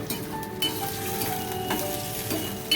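Dhokla tempering of oil, green chillies, curry leaves, sugar, asafoetida and water sizzles on a gas stove, an even close frying hiss with faint clinks and no talking.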